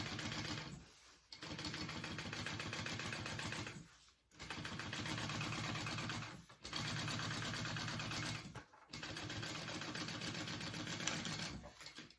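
A sewing machine stitches through the top panel of a tote bag in steady, fast runs, stopping briefly three or four times between bursts, close and clear with no talk.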